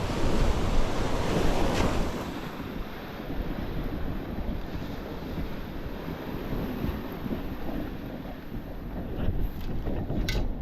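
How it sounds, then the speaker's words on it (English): Ocean surf rolls and washes in at the shoreline over a metal detecting scoop, a loud steady rushing wash with wind buffeting the microphone and no voices. "Wait for a wave to come wash my scoop."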